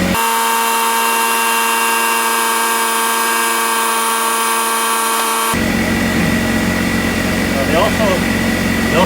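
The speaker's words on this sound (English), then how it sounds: "Air compressor finally kicked off" An air compressor drones with a steady, tonal mechanical hum, then abruptly cuts off partway through, leaving a noisier background with what sounds like a voice.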